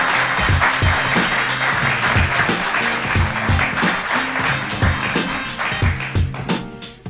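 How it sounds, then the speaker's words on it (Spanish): An audience at a live show in Vigo applauds steadily for several seconds, the crowd's clapping layered over regular low thumps in a rhythmic beat, tapering slightly toward the end. "Podéis aplaudir si queréis"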